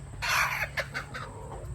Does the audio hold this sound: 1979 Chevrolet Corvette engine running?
no